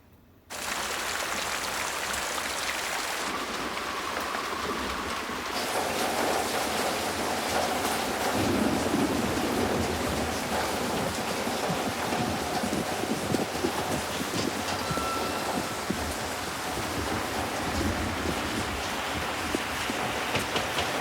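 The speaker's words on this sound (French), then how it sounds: "Pourquoi tu traînes dehors sous cette pluie?" Steady rain pours outdoors in a continuous, dense wash that runs the whole time with no clear thunder, only a slight shift in texture partway through.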